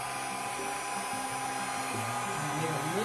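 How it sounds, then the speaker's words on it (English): A hair dryer on low setting blows continuously at close range, a steady airy whoosh with a low motor hum and no talking. "I'm going to take my hair dryer and put it on low this time."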